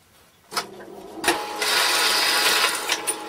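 A sewing machine hems the fabric of a large puppet, starting with a few short bursts and then running in a steady, close, loud whir for a couple of seconds before stopping.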